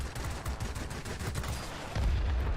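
Rapid machine-gun bursts from a P-51K Mustang fighter in War Thunder, a dense continuous rattle of gunfire with a heavier low thump near the end, close and loud with no talking.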